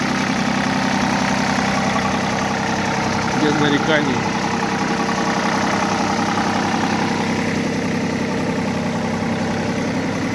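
A mini tractor's three-cylinder diesel engine idling, a loud steady knocking drone running evenly throughout, with someone speaking briefly over it.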